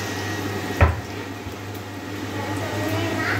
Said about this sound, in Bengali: তো এই চলছে এখন আমাদের গোটা গরম মশলা ফ্রাই।